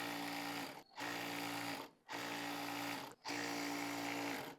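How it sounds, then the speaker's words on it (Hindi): A sewing machine stitches elastic onto fabric for warm winter palazzo pants, running in four even bursts with brief pauses between them, each a close, steady buzzing whir. "अब सिलाई लगाएंगे।"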